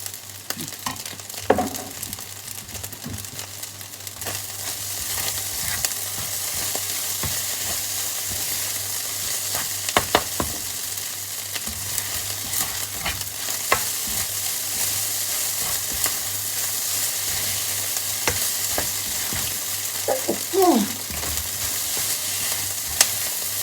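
Galangal and pepper stir-frying in a pan give a steady sizzle for over twenty seconds, broken by occasional scrapes and clinks of a spatula stirring.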